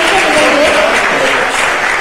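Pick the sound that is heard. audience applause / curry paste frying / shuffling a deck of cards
audience applause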